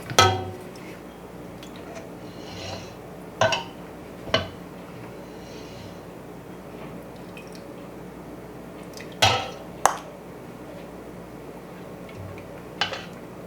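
Cheese being stirred into gluten-free broccoli cheese soup in a pot, a few sharp spoon clinks against the pot scattered over soft wet stirring.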